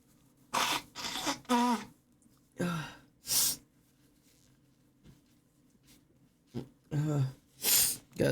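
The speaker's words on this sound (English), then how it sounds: "I gotta sneeze" Several short explosive bursts with sharp onsets, spaced across the stretch, sound like a person's sneezes and sniffs close to the microphone. Quiet gaps fall between the bursts, and no speech is heard.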